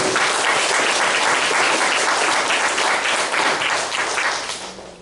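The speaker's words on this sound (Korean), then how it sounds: "감사의 박수를 부탁드리겠습니다" A church congregation applauds steadily, a dense, loud wash of clapping from many hands that holds for about four seconds before thinning out at the end, with no talk over it.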